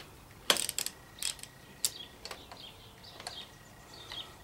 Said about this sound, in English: We'll just use a little gear wrench on these.